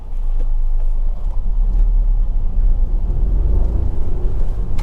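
Hyundai i20 iMT launching and accelerating: a heavy low engine rumble holds steady and strong across the clip, with no voices over it.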